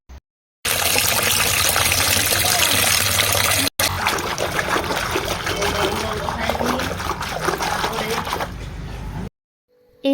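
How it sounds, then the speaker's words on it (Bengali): Cold water pours into a tub of clothes in a loud, continuous rushing splash lasting several seconds, briefly interrupted, then tapering off. "শুধু এটার মধ্যে না, ঠান্ডা জলও দেব"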